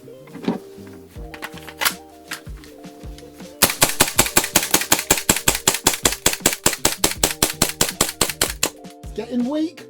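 A Tokyo Marui Hi-Capa 5.1 gas blowback airsoft pistol emptying a magazine: scattered single shots give way to a long rapid string of sharp cracks with slide clacks, loud and close, brief murmured talk at the edges.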